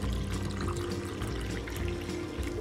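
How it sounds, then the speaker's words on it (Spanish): Water pours steadily into a glass holding powdered milk while crepe batter is being made at home, a continuous splashing trickle close to the microphone with no talking. "Ahora agregamos la leche en polvo en un vaso porque le vamos a agregar agua. Y le agregamos agua."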